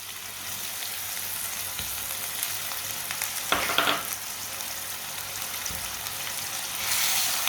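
Chopped green chilies, tomato and ginger frying in a pan, a steady close sizzle throughout with a brief burst of stirring clatter near the middle and a louder hiss toward the end.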